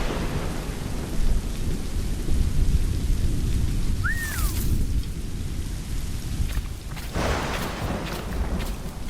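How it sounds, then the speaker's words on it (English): A heavy thunderstorm in the video game Assassin's Creed Rogue: dense, loud rain pours steadily throughout while rolling thunder rumbles low, with a brief whistling gust partway through. "The storm's getting worse."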